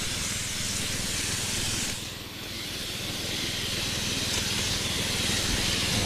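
Steady loud hiss of a power sprayer blasting water onto a calamansi tree, continuous and close, dipping briefly before resuming at full strength.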